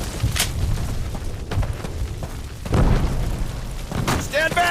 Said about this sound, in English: Explosives, go!